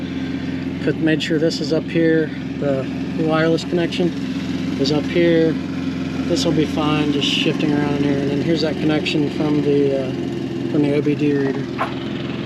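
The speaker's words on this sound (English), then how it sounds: "Sorry about the noise, the neighbor's mowing the yard right now." A steady low engine drone runs throughout beneath close, continuous talking, like a lawn mower running nearby.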